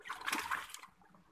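Water pouring and splashing out of a catfish tank at a fish farm, a short gush of under a second that trails off into a faint trickle, with no talk.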